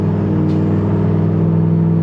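Jaguar XJ8 V8 with its entire exhaust cut off, a loud, steady low rumbling drone with a slight rise in revs as the throttle is touched, heard close up with no talking.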